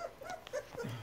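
Puppies about three weeks old whimpering, a few soft, high, wavering cries and small yips close by, faint and brief.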